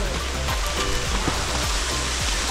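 Steady hiss of light rain falling, a soft continuous patter with faint scattered drops, fairly close and without voices.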